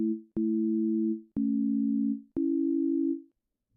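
Pure electronic two-note tone intervals from a sound puzzle game, four sustained beeps each about a second long with sharp clicking onsets and fading tails, clean and alone.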